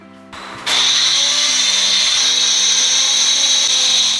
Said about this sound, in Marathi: याला छान मिक्सरला बारीक करून घ्यायचं